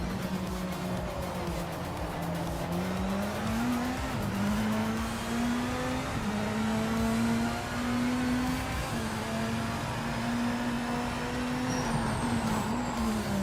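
An LMDH prototype race car laps Zolder in the Project Motor Racing game, its engine droning steadily and rising and falling through gear changes as it travels through corners, with faint tire noise throughout.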